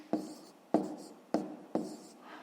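A pen writes numbers on paper during a fifth-grade math exercise, giving four distinct scratchy strokes at a steady pace, close and fairly quiet, with no talking.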